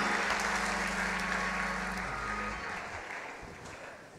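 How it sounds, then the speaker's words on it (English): A church congregation claps hands in praise, a dense, steady wash of applause from many people that gradually eases off, heard under a low sustained organ tone that cuts out partway through. "Put your hands together and give the Lord a hand clap of praise."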